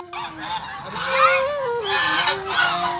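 A flock of ducks walking together gives a string of loud, nasal honking calls. The calls come close by in quick, overlapping bursts with short pauses between them, and no one speaks.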